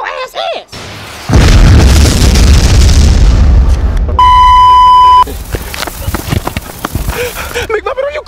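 A missile launcher fires in a comedic Star Wars–themed cop skit: a loud sustained roaring boom, then a steady electronic beeping tone, with muffled voices at the start and end.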